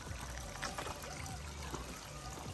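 Water trickling and pouring at a park where hot and cold water run together, a soft, steady wash of flow at low level with no one talking.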